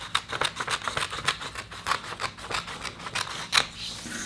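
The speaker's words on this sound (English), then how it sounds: "I'm just going to quickly cut that out." Scissors cut out a paper shape for a craft box in a rapid series of crisp, close snips and rustles of paper, a steady rhythm of cuts with no talking.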